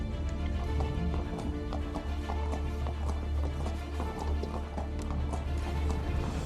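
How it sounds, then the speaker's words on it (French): Hooves of a champion trotting mare, a racehorse preparing for the Prix de Cornulier, clip-clop in a steady, fast rhythm throughout, loud and close over a constant low rumble, with no talk. "c'est une jument, c'est notre championne"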